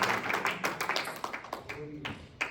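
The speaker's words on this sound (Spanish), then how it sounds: "Denle un aplauso al Señor, hermano, porque Dios es bueno" A church congregation applauding during a Spanish-language service, with scattered, uneven claps rising and falling in bursts while voices murmur faintly underneath.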